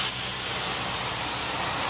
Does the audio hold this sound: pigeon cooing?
no